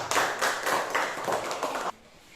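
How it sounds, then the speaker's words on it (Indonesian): Schoolchildren in a classroom clap together for a classmate's group, a quick patterned burst of several claps in rhythm that stops abruptly. "tepuk tangan dulu buat kelompoknya Arista"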